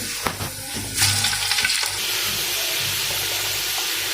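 Chicken hits a hot pan for chicken pulao, with a few clinks and then a sudden loud burst of sizzling that settles into a steady frying hiss.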